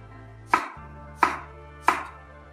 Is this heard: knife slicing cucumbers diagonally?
yes